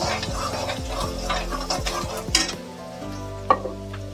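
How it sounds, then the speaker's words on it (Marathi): Spiced potato mixture stirred in a hot pan, a steady sizzle of frying under repeated scraping strokes of a spatula, close up with no talking. "सगळं ढवळून घेऊया।"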